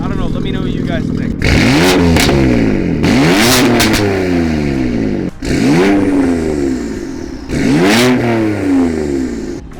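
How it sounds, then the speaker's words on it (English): A BMW S55 twin-turbo engine with an aftermarket exhaust revs hard in four loud, close bursts, each climbing then falling away with audible turbo spool and whoosh between pulls. "One thing I love about this exhaust is how much you can hear the turbo spool."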